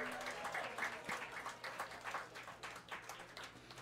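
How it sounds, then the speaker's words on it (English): Audience at the Dirty Dog Jazz Cafe applauds for Laura's birthday during an organ quartet show, a soft, distant, even patter of many hands clapping with no talking. "Can we applaud for Laura on her birthday"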